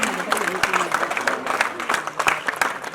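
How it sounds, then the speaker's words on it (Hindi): An audience at a retirement programme applauds with a dense, uneven patter of clapping that runs throughout, mixed with a voice talking over it. "तालियां बजाते रहो।"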